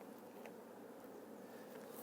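Bees from an opened beehive keep up a continuous, fairly faint buzzing drone with a few small rises as individuals pass closer, no voices.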